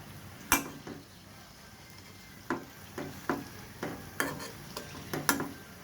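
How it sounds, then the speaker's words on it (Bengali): A Mughlai paratha made with eggs, flour and moong dal fries in a pan while its corners are pressed down to crisp. Soft, low sizzling runs beneath sharp, irregular spatula taps and scrapes against the pan. "এই যে এই কোনাগুলো কিন্তু আমি সুন্দর করে ধরে ধরে ভেজে নিচ্ছি দেখুন"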